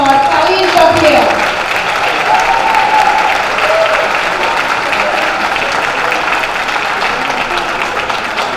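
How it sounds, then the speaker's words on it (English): A brunch audience breaks into warm applause for a guest speaker, loud sustained clapping from a sizable crowd with a few voices and whoops mixed in, holding steady for several seconds. "Let's give our sister a warm round of applause"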